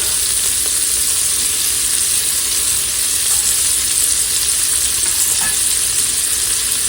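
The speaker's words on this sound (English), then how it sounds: "we're going to put our onions in here to saute along with that pancetta" Onions and pancetta sizzle steadily in a pressure cooker pot, a loud, continuous bright crackle of frying with no voices, holding an even hiss throughout.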